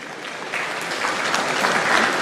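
A summit audience applauding for the Ghana National Anthem, steady dense clapping from many hands in a large hall that swells slightly over a couple of seconds.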